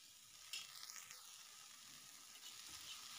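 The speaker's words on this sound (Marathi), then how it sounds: "तर किती छान भेंडी आपली फ्राय होती आहे" Okra (bhindi) fries on a tawa with a soft, steady hiss and sizzle, quiet and uninterrupted with faint stirring scrapes.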